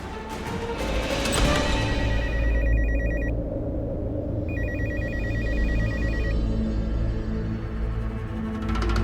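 A landline telephone bell rings loudly in two long bursts with a short gap between them, close and clear over a steady indoor background, with no speech.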